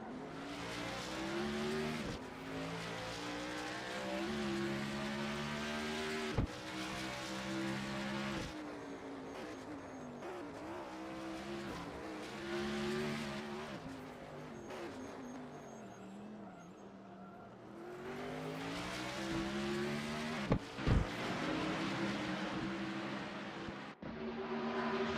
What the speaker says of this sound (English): looking at JKR driving the Cyberpunk Edge Runners, Acura Motorsports Chevy Camaro